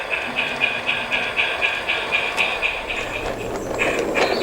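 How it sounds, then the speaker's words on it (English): A model railway sand train rolls past with a regular, repeating clickety rhythm of wheels over rail joints. The sound holds a steady, moderately close running noise as the train moves along the line. "a few minutes later the up sand train passes by on its way to Peckforton"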